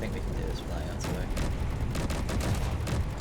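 Weapons fire in the Space Engineers video game, with artillery in play, rattles as a dense, continuous barrage of overlapping shots and booms, steady and loud throughout the short stretch.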